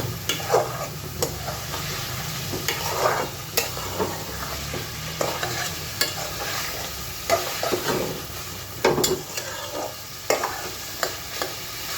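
Home-raised pigeon meat cooked Pakistani-style as a bhuna sizzles in oil while a spoon stirs and scrapes the pan in repeated strokes, close and steady with no talk.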